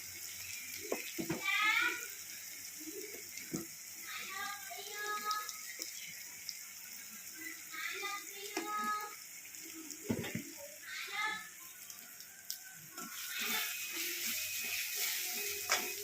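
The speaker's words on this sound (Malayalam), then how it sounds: "ഞാൻ ഉപ്പ് നീരാണ് ഒഴിക്കുന്നത്" Salt water being poured into a pickle of lemon, apple and raisins, with a continuous wet trickle running under brief vocal sounds and a few light clinks throughout.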